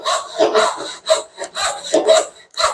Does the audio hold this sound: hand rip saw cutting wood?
yes